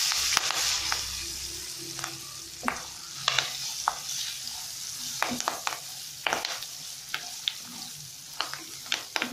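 Curry leaves fry in a hot tempering for tamarind pulihora, giving a soft sizzle punctuated by frequent sharp spoon scrapes and clinks against the pan, close up.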